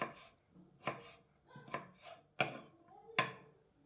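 Knife chopping peeled, washed potatoes on a cutting board, five sharp, fairly close chops at uneven intervals with quiet gaps between, no voices.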